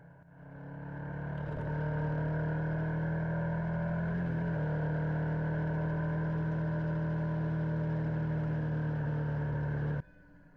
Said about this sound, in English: While my bike's not the fastest bike on the planet, just have a listen to it go when I gave it a little bit to get past this van